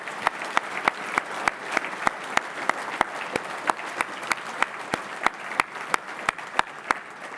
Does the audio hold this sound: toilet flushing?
no